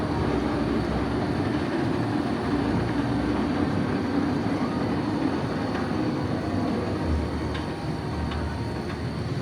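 The Big Bad Wolf roller coaster train at Busch Gardens rumbles steadily along its track, a continuous loud roar with faint rattling, running without pause and with no voices.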